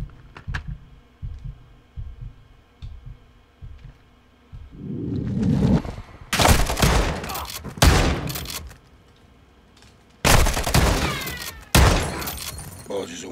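Shotgun blasts in Call of Duty MW2, Wetwork mission: after a low rumbling stretch, several loud, sharp, broadband gunshots ring out in two clusters, each a close, cracking blast with a ringing tail, under occasional talking.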